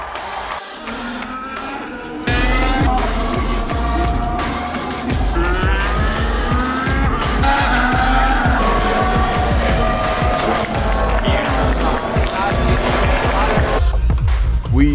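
Race cars roaring and whining continuously through qualifying at the Austrian F1 Grand Prix, loud and close, with engine pitch rising and falling and tyre squeals over a dense, steady wash of motor noise after a quieter opening.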